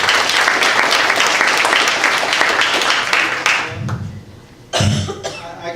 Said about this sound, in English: give yourself a round of applause here today for being here